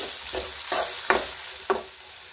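Onion, garlic and green chilli fry in a pan until golden, a steady sizzle punctuated by four distinct stirring scrapes at an even pace, with no talk.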